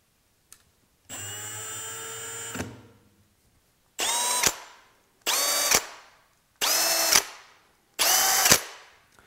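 A Milwaukee M18 OneKey cordless drill boring into stainless steel: one long steady whine, then four short separate bursts that each climb in pitch, close and loud against silence.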